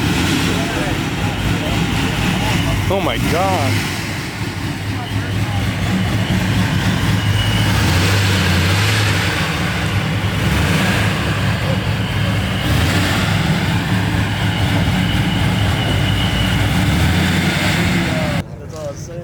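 Fox body car with a 5th-gen ProCharger supercharger running at a Cars and Coffee meet, a loud steady engine drone throughout with crowd noise and a man's brief exclamation over it.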